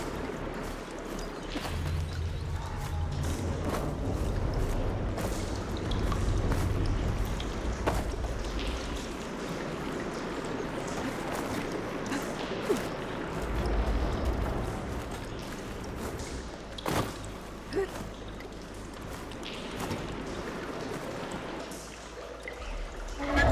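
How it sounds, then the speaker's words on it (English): In the video game Horizon Forbidden West, water runs through a room, heard as a continuous pouring, trickling wash with scattered splashy drops and brief clicks over a low background hum. "Aloy, I can hear water in the room again."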